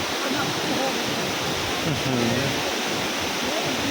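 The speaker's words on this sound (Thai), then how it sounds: "ตรงนี้ น้ำตก ตาดกวางซีนะครับ" Tad Kuang Si waterfall near Luang Prabang pours in a steady, close, full roar of rushing water, with a voice faintly under the constant wash.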